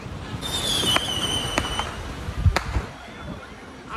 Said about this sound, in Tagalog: nakita namin na may hanabi